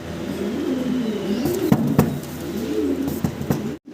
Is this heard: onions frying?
no